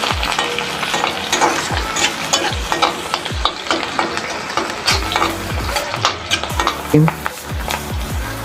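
Onions fry in hot oil in a pan for a taro dish, with a constant sizzle and repeated sharp scrapes and clinks as a spoon stirs them close up, about one stroke each second.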